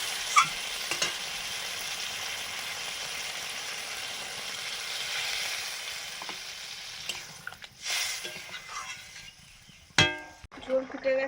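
Vegetable and spice curry broth bubbling in a pan, a steady close sizzle and hiss that thins toward the end, broken by a few clinks and stirring scrapes, with a voice talking briefly.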